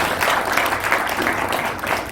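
A crowd applauds continuously, a dense wash of many hands clapping at once, fairly close and loud throughout, at a theology conference session.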